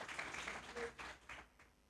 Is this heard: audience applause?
yes